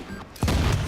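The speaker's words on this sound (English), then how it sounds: "There's a frag grenade." A frag grenade detonates in The Division video game, a single sudden heavy blast that cuts in after a quiet moment and rumbles on briefly.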